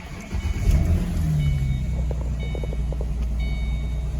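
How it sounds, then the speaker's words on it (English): A 2006 Ford Mustang engine turns over and settles into a steady, low idle close by, with a brief starter burst at the beginning and a continuous rumble afterward. "We'll turn the car on for a little bit."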